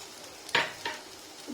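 Oil poured around the edge of a masala uttapam flipped in a pan gives a couple of short, close sizzling bursts with light scraping, then quiets, no talking.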